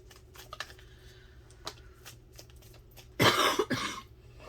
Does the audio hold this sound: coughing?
yes